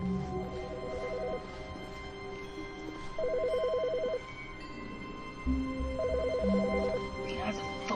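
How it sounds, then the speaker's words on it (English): A telephone rings in the video game The Stanley Parable, three short bursts of an electronic trill spaced a few seconds apart, moderately loud over a steady background hum of game ambience. "Okay, now the phone ringing."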